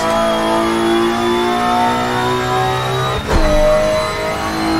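A drift car's engine revs hard and steadily in a high gear while sliding sideways on a track, holding a loud sustained tone before a brief dip and a sharp surge as the revs rise again.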